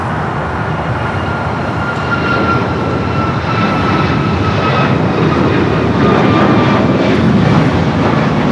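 An airliner bound for Houston takes off from runway 25 right at Los Angeles airport, a loud, steady jet roar that swells slightly as it builds, continuous and without voices.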